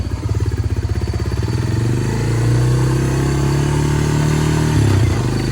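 A 1993 Honda 300 engine runs in first gear, a loud, close, rapid chugging that rises slightly in pitch and then holds steady, with no voices.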